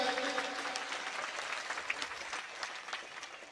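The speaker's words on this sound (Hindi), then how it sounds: "आप सबसे पहले दीदी को जोरदार एक बार ताली बजा के इनका स्वागत कर दें" A crowd at an outdoor Hindu religious gathering applauds steadily to welcome a guest, a dense, even patter of many hands clapping at a moderate distance with no voices over it.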